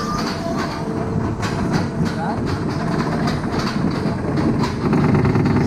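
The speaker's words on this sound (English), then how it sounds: "So here we go on Crazy Train." The Crazy Train amusement park ride train at Gulliver's World in Warrington rumbles and clatters loudly and steadily, with rattling wheel noise and occasional squeal close by.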